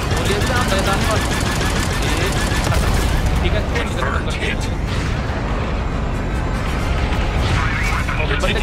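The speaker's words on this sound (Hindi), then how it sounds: "machine gun" Machine gun fire from a ship in Star Wars Outlaws, a dense, continuous rattling barrage with booming blasts mixed in, loud and sustained.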